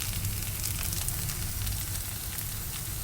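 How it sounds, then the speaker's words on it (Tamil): Okra (lady's finger) sautéing in a hot pan for a masala curry, giving a steady, continuous sizzle and crackle close up with no one talking. "நெக்ஸ்ட்டு வெண்டைக்காய் போட்டுக்கலாம். இதை 2 நிமிஷம் நல்லா வதக்கி கொடுத்துக்கலாம்."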